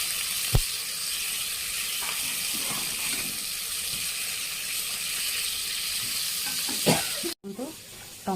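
Sukhua, dried fish, sizzles and hisses steadily in a frying pan, with a few soft clinks and scrapes of stirring, fairly quiet, plus a brief cut near the end.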